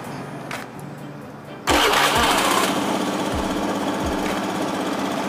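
A motorcycle's electric starter, powered by a lithium-ion pack fitted in place of the usual battery, cranks the engine after a quiet pause, then a loud, steady, close mechanical whir with faint rhythmic thumps runs on to the end.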